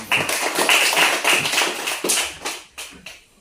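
A small group of students clapping in a classroom, a brief burst of uneven hand claps that tapers into a few scattered final claps.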